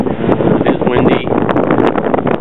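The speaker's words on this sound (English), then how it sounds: "It is windy." Wind buffets a small boat making about five knots under sail, a steady loud roar of gusting air hitting the microphone close by, continuous for a few seconds.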